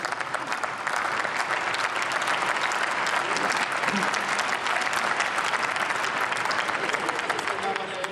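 Sustained, dense applause fills the German Bundestag chamber for the finance minister, loud and steady throughout with no break.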